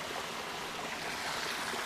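Fresh, clear water flowing at the water source of a gold mine, a steady broadband rush like a stream or trickle, moderately close and continuous with no voices.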